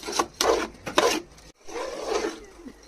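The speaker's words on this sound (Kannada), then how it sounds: "ಅಕ್ಕಿನ ಹಾಕೊಂಡು ಚೆನ್ನಾಗಿ ಮಿಕ್ಸ್ ಮಾಡಬೇಕು." Washed rice scrapes and rasps against a pot as it is stirred into mutton biryani, in close, gritty strokes with a short pause midway, and no voices.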